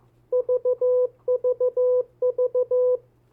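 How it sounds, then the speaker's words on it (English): Steady electronic Morse code tone from a radio used as a code practice oscillator, sounding in three quick bursts of short dits and longer dahs with brief pauses between, clear and alone over a faint low hum. "the Morse code coming from my radio that I use as an oscillator."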